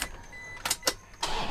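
Power windows on a 2010 Toyota Fortuner diesel with manual transmission run in brief whirring bursts with soft clunks, several in quick succession, close by and with no talking.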